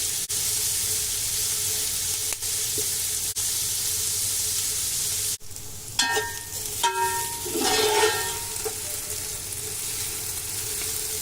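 Onions frying gently in ghee and refined oil in a pan for Kabuli pulao give a steady, close sizzling hiss, with a few light clinks and stirring sounds near the end.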